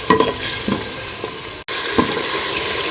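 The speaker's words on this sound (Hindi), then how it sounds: "इसमें हम मटर शामिल कर लेंगे और इसको भी हम मसाले के साथ भून लेंगे।" Green peas frying with masala in a pan for matar pulao: a steady close sizzle with intermittent stirring scrapes, briefly cutting out once before resuming.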